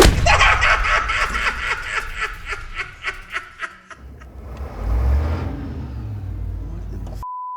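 A vehicle engine turns over and starts outside, settling into a low rumble after a run of rhythmic chuckling laughter.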